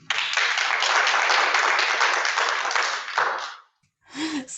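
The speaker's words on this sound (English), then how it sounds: "So warm applause, please." Warm audience applause at a teachers' education conference, a dense, steady clapping from a large crowd that lasts about three and a half seconds before fading, followed by a brief pause and a voice beginning to speak.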